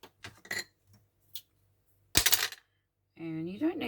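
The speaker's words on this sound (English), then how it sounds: "I'm just going to use my metal ruler and a craft knife to cut that down." A craft knife draws along a metal ruler to cut board, giving a few light ticks and one short, sharp scraping stroke, close up. A brief voice sound follows at the end.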